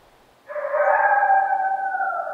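A Mexican wolf lets out a single sustained howl, rising in quickly and holding a clear, steady tone, fairly loud and alone against a quiet background.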